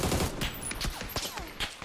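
Gunfire in the shooter PUBG rattles in quick automatic bursts, loud and close, with a few sharper individual shots standing out over a brief, dense stretch.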